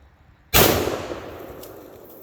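A Lynx 12 shotgun fires one sharp, loud blast with a fireball, the report decaying over about a second and a half outdoors.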